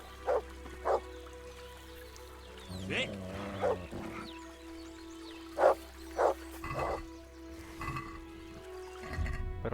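A dog in the medieval RPG Kingdom Come Deliverance barks repeatedly in short, loud pairs and bursts across the scene, mixed with game ambience while a voice shouts and talks over parts of it.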